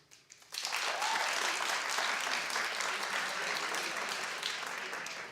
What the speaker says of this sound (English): Clap if you believe Kris and OJ.